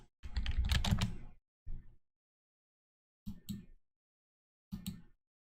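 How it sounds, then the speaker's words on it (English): Keys clatter hard on a keyboard in a dense burst, then three short, separate flurries of heavy typing with silence between them. "I know I like pound my keyboard."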